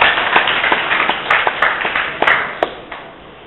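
A small audience claps for a speaker at a talk on Dessalines and Haitian identity, with scattered, sharp individual claps that thin out and fade, close and fairly loud.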